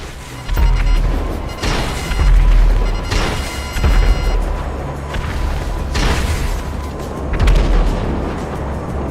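Rocket blasts in GTA Online land in a string of loud, deep booms a second or two apart, each one rolling out into a rumbling tail with no talking over them.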